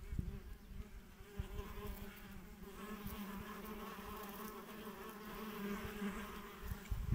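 Wild bees swarming around a plastic hive at an apiary, a dense continuous buzzing drone of many insects close by, steady in loudness with no voices.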